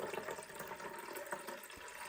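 Water pours steadily into the 1.4 liter reservoir of a DeLonghi Rivelia coffee machine, a soft, continuous close-up splashing and trickling that lasts for a couple of seconds.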